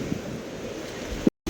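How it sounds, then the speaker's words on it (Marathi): A monsoon waterfall on Harishchandragad fort, its water rushing down heavily as a steady, dense roar that fills the whole clip and stops for a brief moment near the end. "जबरदस्त पाणी खाली वरच चालू आहे धबधब्यामध्ये"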